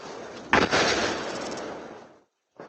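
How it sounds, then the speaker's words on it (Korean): A blast at a military ammunition factory in Tennessee booms from a distance, a sharp crack followed by a long rumbling roar that fades out, then a second short thud. "계속 터지는 소리가 이어집니다."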